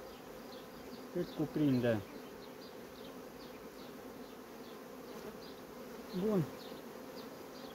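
Honey bees buzz steadily around an open beehive full of honey, a soft continuous hum with closer bees passing by now and then, and a brief bit of talk partway through.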